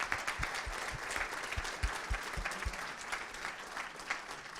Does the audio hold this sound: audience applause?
yes